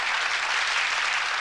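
A French studio audience applauds champion Gilles on a 1986 Jeopardy game show, a steady wash of clapping held at an even level throughout, with no talk over it.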